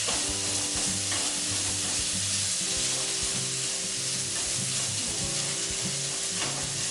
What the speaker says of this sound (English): Get the spam all nice and crispy.